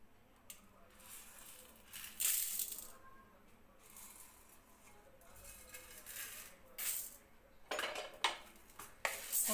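Chana dal is dry-roasted in a kadai without oil: faint, intermittent rattling and scraping as the dry lentils are turned, with quieter pauses between bursts.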